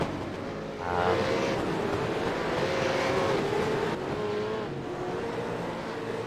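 Race cars at speed on the Belle Isle circuit during round ten of a racing series, engines droning loudly and continuously as cars pass, their pitch rising and sliding between gears with no talk over them.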